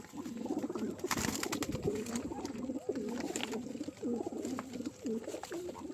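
Several young pigeons coo close by in a steady run of low, rolling calls during the rainy season, with brief flutters and clicks mixed in.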